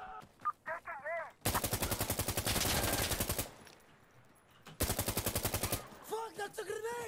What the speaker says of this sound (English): Keep getting shot from everywhere.